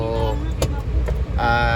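Cars pulling out and driving off, likely on a ferry arriving at Samal Island, a steady close engine rumble with brief mechanical clunks and a faint voice in the background.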